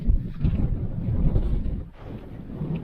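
Strong wind on a Greek island buffets the microphone with a steady low roar and gusty rumble, loud and continuous with a brief lull near the end, no one talking.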